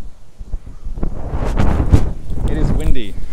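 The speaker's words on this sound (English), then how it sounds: "It is windy." Wind blows across an outdoor microphone in loud, low buffeting gusts that rise and fall over a few seconds.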